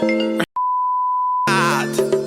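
A single short electronic phone beep, a steady pure tone that follows a brief blip and holds alone for about a second, set between stretches of spoken dialogue over music.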